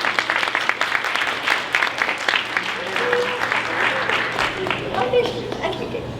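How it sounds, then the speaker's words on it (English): Audience applauding a panel of climate career experts at the SF Green Jobs Pavilion, steady dense clapping from a room full of people lasting several seconds, with a voice speaking over it toward the end. "can we give them all a round of applause?"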